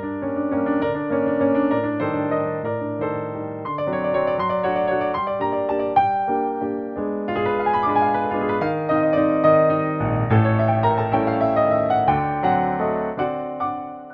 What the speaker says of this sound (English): the legendary sound of the Bösendorfer Imperial, featuring a characteristic warm tone known as the Viennese sound